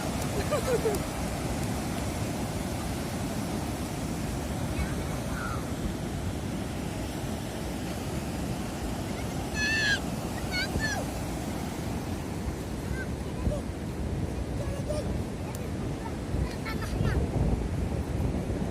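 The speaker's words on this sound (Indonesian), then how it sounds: "Tuh ombak di belakang lagi." Ocean waves breaking at Pantai Harmoni beach: a continuous broadband wash of surf with wind buffeting the microphone, steady and fairly loud, with faint voices now and then.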